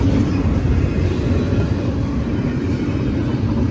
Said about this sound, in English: There goes the end of the intermodal.